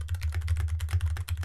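Rapid keystrokes on a computer keyboard at a desk, clattering in a dense continuous run over a steady low hum, fairly close and moderately loud with no voices.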